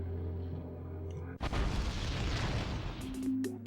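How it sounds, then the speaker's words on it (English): In Pokemon XD: Gale of Darkness, raising the voltage sets off a sudden loud explosion that cuts in over a soft musical background and roars on as a broad rumbling blast, followed by sparkly game chimes. "by doing that, we have caused an explosion"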